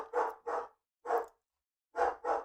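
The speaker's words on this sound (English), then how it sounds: "they're still kind of barking" Dogs bark in five loud, close bursts, two quick ones, a single, then another pair after a pause.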